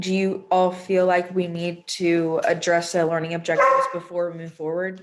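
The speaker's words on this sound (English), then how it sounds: "Sorry, that was my dog." A dog barks and yips a few times in the background while a person keeps talking over it.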